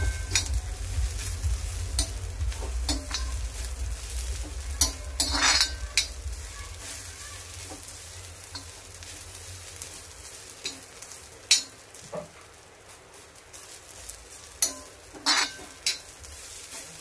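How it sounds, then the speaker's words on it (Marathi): Dry coconut and masala roasting in a pan for crab masala, with repeated scraping stirs, occasional metallic clinks of a spoon against the pan and a soft continuous sizzle, close and unaccompanied by speech. "चांगला मसाला भाजून झाला की याला मिक्सरमध्ये ग्राइंड करायचं"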